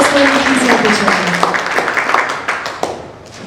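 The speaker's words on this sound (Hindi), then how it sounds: "प्लीज एक बार जोरदार तालियां हो जाए प्रताप जी के लिए" Audience clapping to welcome Pratap Tikka on stage at a crypto event, brisk applause from a crowd that gradually thins and fades over a few seconds while someone speaks over it.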